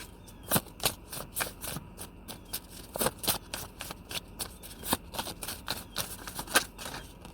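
Tarot cards are shuffled for a reading in a run of quick, crisp riffling bursts and soft card slaps, close and fairly quiet, with no talking.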